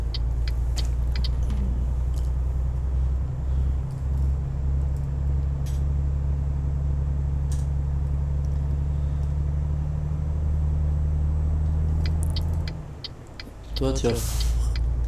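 Trucks in Euro Truck Simulator 2 drone with a low steady engine rumble that runs continuously, then drops away near the end before a short burst of sharper noise. People talk throughout.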